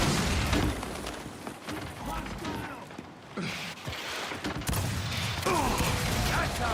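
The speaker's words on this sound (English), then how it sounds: "Flashbang out." A flashbang grenade detonates during a Gears of War match, a loud broadband burst among ongoing gunfire and mechanical game noise, with a voice speaking in the background.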